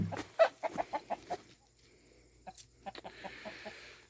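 Chickens cluck in a quick series of short calls in a hay and feed storage area, then fall quiet before a few softer clucks return near the end.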